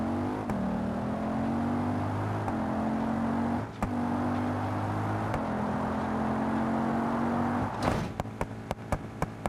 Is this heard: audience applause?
no